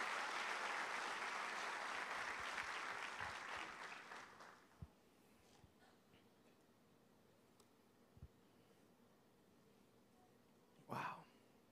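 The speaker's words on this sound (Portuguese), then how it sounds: "Um aplauso ao nome de Jesus" Applause from a church congregation during a sermon, a broad wash of clapping that fades away about four seconds in, leaving a quiet room with a few faint ticks and one brief noise near the end.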